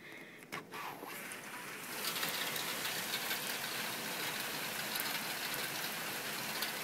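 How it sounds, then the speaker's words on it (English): Steady, dense rain hisses loudly and evenly throughout, after a brief clatter at the start; no voices. "It's raining so much."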